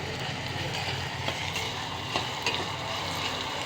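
Onions with ginger-garlic paste frying in a pan for a flat bean and tomato curry, a steady soft sizzle with faint stirring scrapes and occasional small pops, close and continuous.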